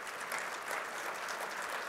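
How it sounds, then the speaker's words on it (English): An audience at an Executives' Club of Chicago tech panel program claps for the moderator and panelists, giving a dense, even burst of many hands at moderate loudness with no voices over it. "Another round of our applause,"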